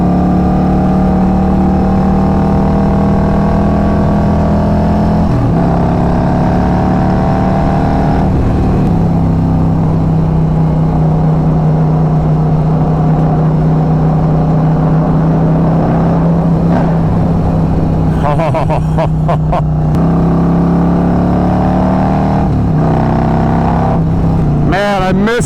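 A Harley-Davidson Road Glide motorcycle engine running close by, a loud steady low rumble that rises in pitch with a few revs and shifts, with someone talking over it.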